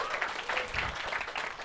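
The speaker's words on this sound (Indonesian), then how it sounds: "tepuk tangan buat Ical KT." A small audience claps and cheers at an Indonesian comedy show, a steady, moderately loud patter of hands for under two seconds with some murmuring mixed in.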